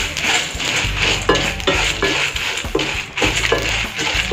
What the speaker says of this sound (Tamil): இதை நல்லா மணம் வர அளவுக்கு வறுத்துக்கலாம்.